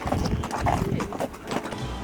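A horse carrying a rider along the trail at Petra in Jordan clip-clops nearby at an uneven walking rhythm, its hooves loud over outdoor background sound, with no talking.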